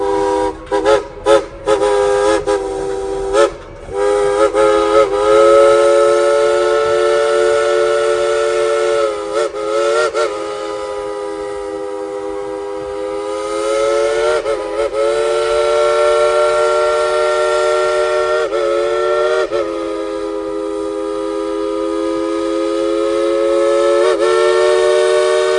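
Steam train whistle at Dollywood, Pigeon Forge, Tennessee, played by the conductor as Christmas music such as Jingle Bells: a loud, sustained multi-tone chime with melodic pitch changes, brief stabs at first, then long held notes, alone without talk.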